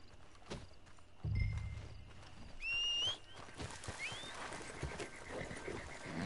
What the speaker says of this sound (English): So this is my horse, scrawny neck.